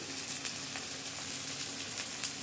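Spices sizzle steadily in hot oil in a pan while cooking a rohu fish curry, a continuous close frying hiss with small crackles and no talk.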